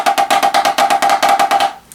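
Drum rudiment exercise of 4-note Swiss triplets played on a snare as crisp, even groups of strokes in a steady rhythm, loud and close, stopping just before the end.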